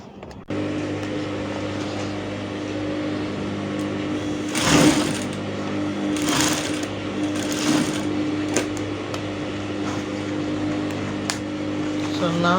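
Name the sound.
sewing machine sewing elastic on trousers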